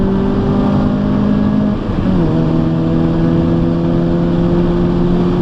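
A car on a racing circuit with an instructor aboard, engine droning loud and close as the driver lifts briefly, then gets back on the throttle and the revs climb steadily.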